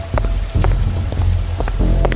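Steady rain falls outside a house, a dense continuous patter with a few louder drops standing out, close and fairly loud with no voices.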